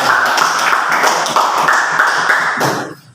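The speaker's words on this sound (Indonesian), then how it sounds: "tepuk tangan dulu untuk kita" A group of children in a classroom clapping together, a loud, close flurry of fast overlapping claps that keeps going for about three seconds and then stops abruptly.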